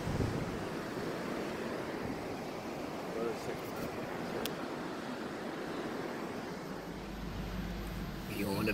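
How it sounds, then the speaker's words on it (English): Ocean surf rolls onto Daytona Beach on a cold day, a constant broad wash of breaking waves mixed with wind buffeting the microphone, steady and fairly loud throughout. "On the beach, Daytona Beach."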